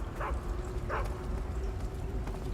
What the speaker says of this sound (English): Oh, that's a dog.